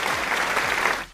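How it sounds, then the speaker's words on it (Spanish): Audience applause in a brief, dense burst of many hands clapping at once, steady and fairly close, then cutting off abruptly. "Ahí es donde un aplauso,"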